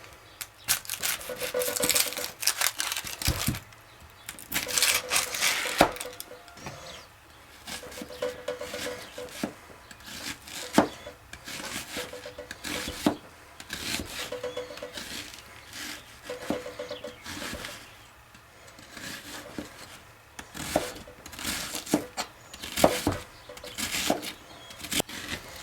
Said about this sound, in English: We're going to chop up one large onion